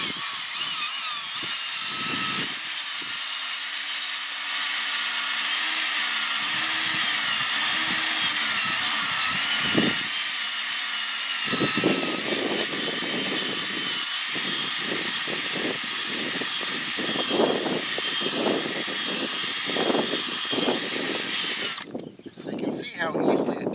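Power drill spinning an eraser wheel to strip heavy pinstripe glue off a car's paint, a steady loud high-pitched whine running throughout with a scrubbing undertone, ending abruptly near the close.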